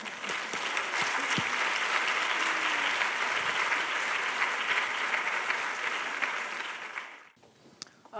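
An audience at a talk on women and leadership applauds warmly to welcome the speaker. The clapping is steady and sustained for about seven seconds, then fades out quickly.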